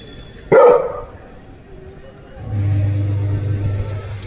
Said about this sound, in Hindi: फिर भी भौंके रखे दे रहे हैं।